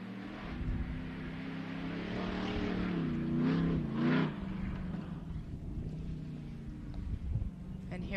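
Ultra4 off-road race vehicle driving a short course at a national race, its engine roaring and shifting pitch up close before trailing off under wind noise, with a commentator talking.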